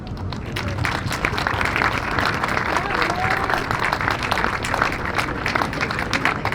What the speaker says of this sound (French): on veut les applaudir pour les engagements qu'on prend ensemble.